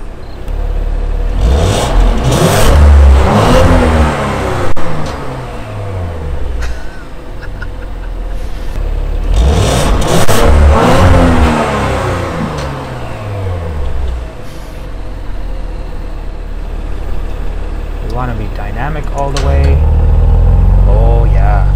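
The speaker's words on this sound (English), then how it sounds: "Wakes up the car, turns up the exhaust." A 2018 Audi RS5 fires up and its exhaust is revved, deep engine rumble swelling and surging in two strong pulls with a steady idle between, close and loud, with someone talking over it.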